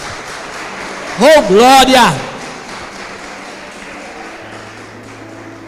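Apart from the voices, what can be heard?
congregation applauding in church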